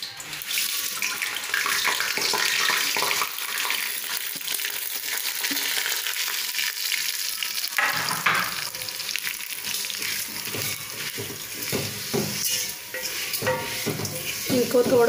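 Vermicelli (sevaiyan) frying in about half a cup of ghee for methi sawaiyan, a steady broadband sizzle running close and fairly loud throughout, with stirring scrapes and a brief shift in texture partway through.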